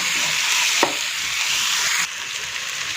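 Tomatoes and onions frying in a pan, a bright steady sizzle up close with a single knock of the spoon and a slight drop in level partway through.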